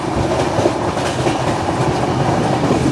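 The 12863 Howrah–Bengaluru SF Express runs at about 130 km/h through dense fog, giving a loud, close, continuous rumble with rapid wheel clatter and no voices.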